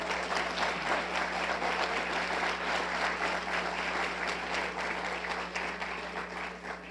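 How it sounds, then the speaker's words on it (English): Warm round of applause from the audience at a high school athletics hall of fame ceremony, steady sustained clapping filling the room, with a low steady hum beneath it, easing slightly at the end. "would you please provide a warm round of applause for the White Plains Sports Hall of Fame Executive Committee"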